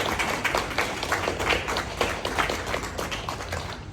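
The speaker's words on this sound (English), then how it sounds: "Come on, you deserve applause to yourself." An audience at a talk applauds one another, dense even clapping spread across the room and filling the whole stretch without a break.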